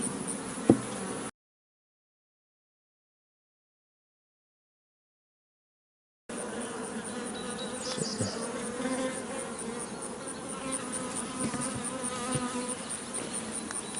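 Honey bees in a small hive with wax moth larvae hum in a dense, steady buzz close by, broken by a stretch of complete silence partway through before the swarm sound returns.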